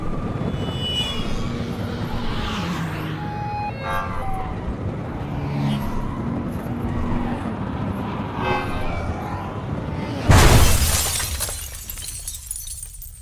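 Car driving in the audio game Blind Drive, a steady rumbling road drone with passing whooshes, then a loud crashing impact near the end as the car is hit, followed by a fading tail.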